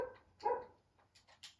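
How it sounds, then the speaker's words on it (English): A dog in the block game Minecraft gives a couple of quiet barks followed by softer yips and whimpers, fairly faint and distant, with no talking. "Honestly, he just constantly barks."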